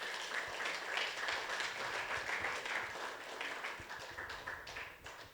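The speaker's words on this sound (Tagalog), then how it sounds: "Bigyan natin ulit ng palakpak ang mga woman." A church congregation applauds a pastor's call to honour the women: dense, sustained clapping from a crowd, steady throughout and heard alone without talk.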